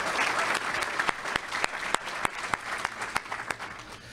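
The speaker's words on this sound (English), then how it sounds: "So another round of applause" An audience at a county event applauds students, steady dense clapping with a few sharp individual claps standing out, moderately loud and continuous for several seconds.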